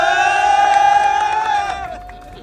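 A football crowd of Arab fans cheers at the 2022 World Cup in Qatar, a loud, sustained roar with shouting voices that fades toward the end.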